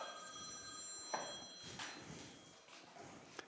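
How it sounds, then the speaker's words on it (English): An old-time rotary telephone rings faintly in the background of a high school football radio broadcast, with a few soft bell-like bursts and small knocks over a quiet room. "That sounds like an old-time phone. Is that a rotary? It might be a rotary phone."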